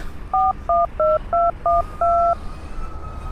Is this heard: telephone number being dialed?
yes